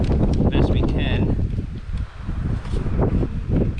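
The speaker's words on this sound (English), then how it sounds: "you don't hear very much because it's so windy, obviously" Strong wind buffets an outdoor beehive site, heavy gusting rumble and microphone buffeting that swells and dips, with intermittent talking over it.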